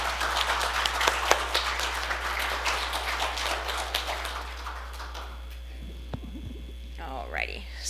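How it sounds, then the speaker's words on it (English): Crowd applause with many overlapping claps for about five seconds, then fading into quiet room noise and a few faint sounds. "So give me a round of applause for Lou Ferrigno, who's coming out."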